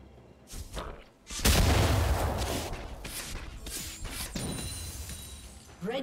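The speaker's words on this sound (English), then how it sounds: "Red team's turret has been destroyed." A turret is destroyed in League of Legends: a sudden heavy crashing explosion with shattering debris, loud and sustained for several seconds, with short impact bursts before it and a rumbling fade after.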